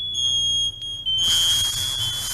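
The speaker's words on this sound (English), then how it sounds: "there are several smoke detectors that work" A household smoke detector blares a loud, steady high-pitched tone that briefly dips and then continues strongly.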